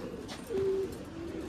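Pigeons coo from a nearby loft, a soft low burbling call that swells briefly in the middle and trails off, over a steady background hum.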